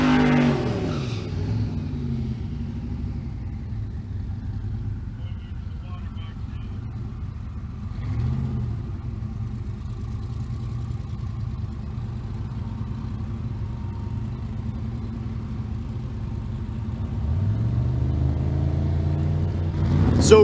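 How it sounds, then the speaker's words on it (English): A twin-turbo LS-powered Chevy Nova at a drag race. Engines rev and launch loudly at the start and again near the end, with a lower, steadier drone between, under an announcer's commentary. "The twin turbo LS powered Chevy Nova."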